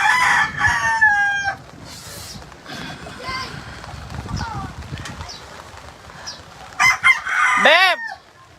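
Rooster crowing with repeated harmonic calls near the start and again at the end, among chickens in a flooded neighbourhood during a typhoon in Marilao, Philippines; people talk in between.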